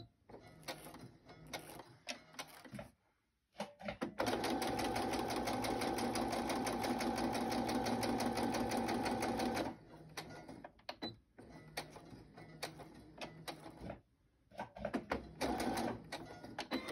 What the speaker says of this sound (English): I'm going to pull my sewing machine in